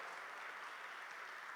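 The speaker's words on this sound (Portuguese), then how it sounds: "Aplauda Jesus, porque ele é o dono da vida." Church congregation applauding during a Portuguese-language sermon, a dense, even wash of clapping from many hands, moderately distant and sustained throughout the short moment.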